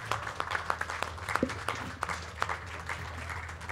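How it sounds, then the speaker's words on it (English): Audience at a science festival talk on election hacking applauding the panelists, fairly faint scattered claps over a low room hum. "A big round of applause,"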